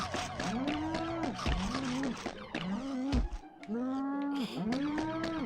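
A cartoon cow moos repeatedly in the South Park 64 video game, several loud drawn-out calls in a row with short gaps between them and a brief clunk in the middle.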